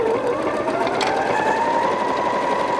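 A Janome quilting machine runs a serpentine stitch, a loud continuous mechanical whir with a fast, even rhythm and a slight shift in pitch as it keeps going without pause.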